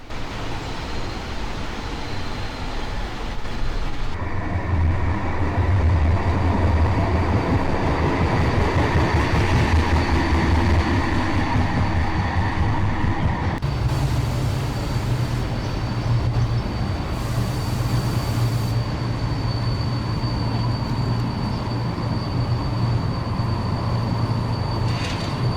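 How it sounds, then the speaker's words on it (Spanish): Bilbao tram car 408 rolls past at close range, a steady loud rumble of wheels and motor with a high squealing whine, the sound shifting midway as the car moves by; no voices. "el tranvía que acaba de pasar es el coche 408"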